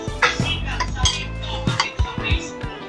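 A metal lid goes back onto a cooking pot of chicken. Several sharp clinks and clatters ring out up close in quick, uneven bursts.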